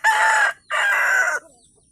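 Native farm chicken, a rooster crowing in two loud, close, drawn-out bursts with a short pause between, then quiet.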